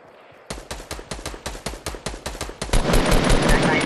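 Rapid automatic gunfire in a shooter video game, a steady burst of about fifteen sharp close shots that thickens into a dense, louder barrage near the end, with no talk over it.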